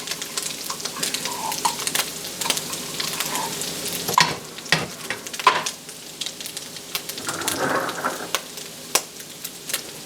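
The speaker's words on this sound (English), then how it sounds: "So I want to cook this tomato paste so that it touches the bottom of the pan." Tomato paste cooking against the bottom of a pan for a gluten-free, dairy-free tamale pie, giving a steady crackling sizzle with scattered stirring clicks and scrapes, moderately close and unaccompanied by speech.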